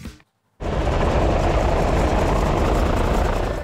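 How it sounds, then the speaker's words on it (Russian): Aircraft engine running before a skydive, a brief quiet gap then a loud steady close-up droning roar that continues to the end. "Рев мотора означает «пора на посадку»."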